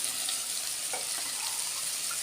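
Water poured steadily into a cooking pot for aloo pulao with basmati rice, a continuous close, even splashing rush that lasts throughout without pause.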